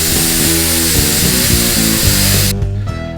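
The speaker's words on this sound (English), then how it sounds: "My tool of choice is going to be a pneumatic whiz wheel or cutoff wheel" A pneumatic cutoff wheel slices through braided hose with a loud, steady, close whine that drops away as the wheel spins down near the end.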